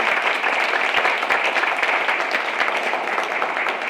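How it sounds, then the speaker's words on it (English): An audience at a school board meeting gives a steady round of applause, dense even clapping that holds at a consistent level from start to finish with no speech over it. "Let's give BEF a huge round of applause for all they do to support student success"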